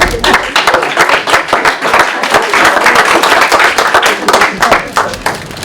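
Audience applause at a New Year's greetings ceremony in a care home in Malestroit, a dense run of close, loud hand claps with uneven rhythm that fills the whole stretch.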